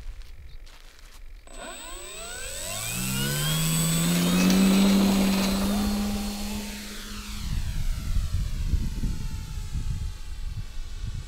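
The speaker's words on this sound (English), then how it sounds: "I want to do a takeoff with takeoff flaps to see how easy she goes up." A Techone Hobby Air Titan RC airplane takes off with flaps lowered, its electric motor whine climbing steadily in pitch and loudness, then fading and dropping as the plane pulls away into the distance.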